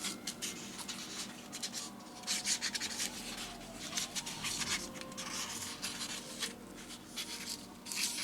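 A magic marker traces an outline on scrap foam board, giving soft, close scratchy strokes that rub steadily with small pauses, quiet and alone.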